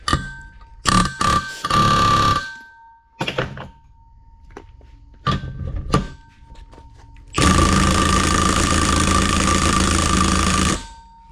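Metal puller rattling and clanking against a tractor's thrust bearing during removal on an Oliver 7300 with variable speed drive, with several sharp bursts of banging early on, then a long, loud, sustained rattle near the end.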